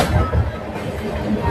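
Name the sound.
Vikrama Simhapuri Amaravathi Super Fast Express train running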